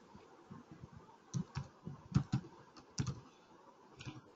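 Java code being typed on a computer keyboard, a run of quick irregular key clicks that cluster into bursts, close and fairly quiet, with no voice over them.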